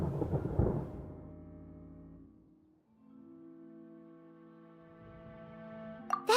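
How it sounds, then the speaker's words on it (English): Low rumbling thunder from a storm in the Genshin Impact video game, a heavy roll fading out over a couple of seconds, followed by sustained tonal game music and a brief bright chime at the end. "Paimon hears thunder!"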